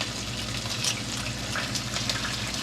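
Butter and parsley mixture hits a hot skillet, and a dense, close, continuous sizzle and crackle fills the whole stretch at a fairly even level, with no voices over it.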